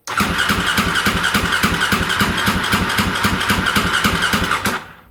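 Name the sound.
stored motorcycle engine being started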